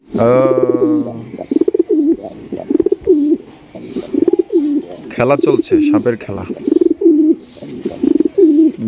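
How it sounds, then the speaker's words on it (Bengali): Pigeons cooing up close at a pigeon seller's collection: repeated deep, rolling coos follow one another steadily and loudly, with a voice heard briefly among them. "কবুতর হাতের সামনে দিনে দুপুরে, হ্যাঁ, এইভাবে কেমনে ডাকে"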